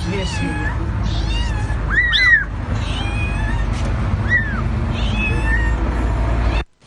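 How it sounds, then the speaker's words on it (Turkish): Several high, thin kitten meows repeat over a steady low rumble of traffic or engine noise, with faint voices in the background. "Yavru kediler annelerine kavuşurken"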